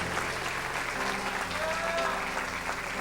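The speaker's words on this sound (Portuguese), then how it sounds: "Pode aplaudir o Senhor Jesus." A church congregation applauds in steady, dense clapping that fills the room, loud and continuous, with faint voices under it.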